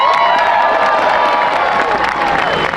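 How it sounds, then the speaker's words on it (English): A rally crowd of teachers cheers and applauds outside a state legislature building, a loud, continuous wash of clapping, whoops and shouting voices lasting throughout. "So give yourselves a round of applause."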